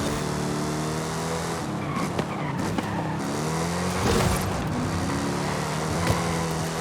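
A 1970 Dodge Challenger in the racing game Forza Horizon 5 drives hard with a steady engine roar while its tires squeal and skid in long sliding bursts, and no one speaks.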